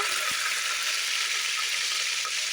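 Mint, coriander and curry leaves fry in hot oil for bagara rice made with ration rice, giving a steady, even sizzle with a couple of faint low knocks early on.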